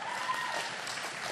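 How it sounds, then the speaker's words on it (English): A crowd cheers and applauds in a steady, dense roar that sounds somewhat distant, with no speech over it. "And then they cheer."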